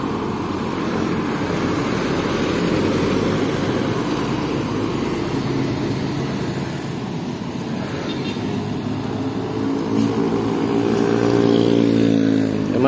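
A Hino RN 285 double-decker bus engine idles and rumbles at a petrol station, a loud, steady low drone that swells slightly toward the end over background traffic noise.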